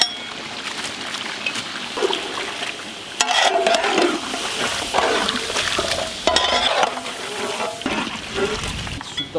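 Onions frying in pure goat fat for Afghani Kabuli pulao are stirred in loud, scraping bursts over a steady close sizzle, with no talking.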